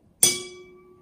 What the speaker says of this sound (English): And then we have a deader tone with the salt water solution.